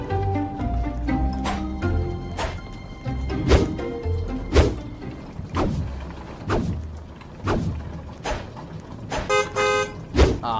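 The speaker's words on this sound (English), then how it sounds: "Honk outside." Car horn honking outside a house in a Roblox game, a few short toots heard amid game music and thumping sounds, with a burst of clustered honks near the end.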